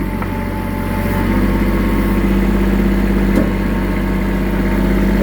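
A Kubota L3800 tractor engine runs in low gear, a close, loud and steady low diesel rumble with a constant hum and no change in pace throughout.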